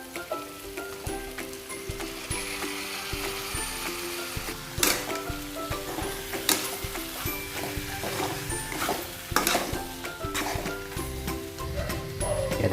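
Chicken meat with turmeric frying and being stirred in a pan, a steady sizzle broken by repeated scraping and clanking strokes of a spoon against the pan, close and fairly even throughout.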